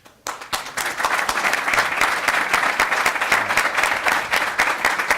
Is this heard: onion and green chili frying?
no